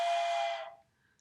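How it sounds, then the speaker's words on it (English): A PE teacher gives one short, sharp blast on a whistle, loud and close, cutting off abruptly and leaving near silence. "When I blow the whistle, you have to freeze and look for me."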